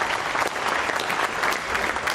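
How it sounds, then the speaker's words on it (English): Steady, dense applause fills a launch control room in Kourou after GSAT-31 separates from its European launch vehicle, with many hands clapping evenly throughout and no other sounds standing out. "you heard the applause from people here in Jupiter, handshakes"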